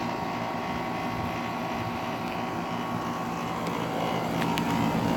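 A 2013 Rheem Value 3-ton, 13 SEER, R22 central air conditioner runs outdoors, giving a steady, fairly loud droning hum with a rough fan-motor whir and no pauses.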